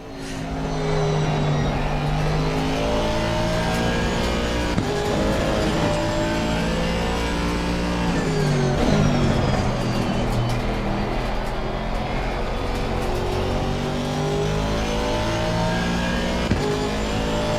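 Race car engine in Assetto Corsa Competizione, droning steadily and loud throughout with rising and falling revs as gears shift, no voices over it.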